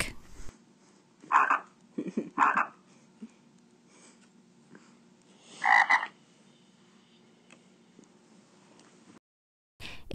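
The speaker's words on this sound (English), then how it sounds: "found the sound of a frog on YouTube, and we recorded that within his book." Frog croaks played from a recording, three short raspy bursts spaced a second or more apart with quiet gaps between, fairly close and alone without talk.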